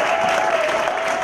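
Church congregation cheering and applauding during worship, a brief, loud, continuous crowd roar of clapping and voices with a sustained tone running through it.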